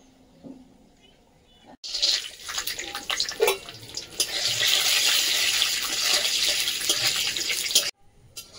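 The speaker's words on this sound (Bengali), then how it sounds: "কড়াইতে যে তেল আছে ওই তেলে কয়েকটা চীনা বাদাম ভেজে নেব।" Peanuts frying in leftover oil in a wok while making khichuri, a steady bright sizzle that starts abruptly, holds loud and close for about six seconds, then cuts off, with quieter kitchen sounds before it.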